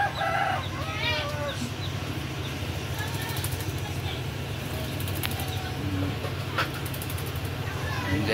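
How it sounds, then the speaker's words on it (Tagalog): Chickens cluck steadily close by while a rooster crows once near the start, with people talking softly in the background. "yung tatlong manok nabili gabi ni Basti"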